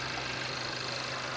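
A rough car engine idles and shakes at an auction lot, a steady, close, low rumble with a faint irregular knock running underneath and no pauses.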